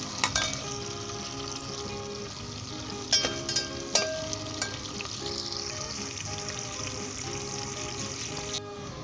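Onions sizzle and crackle steadily in a hot pan, with a few clinks of stirring, close up and without speech.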